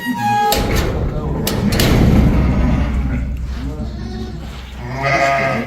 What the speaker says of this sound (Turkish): Daha önceden de orada kuzulayan koyunlar var.